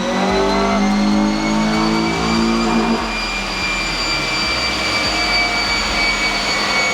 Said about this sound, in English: that was like a pretty warm dyno run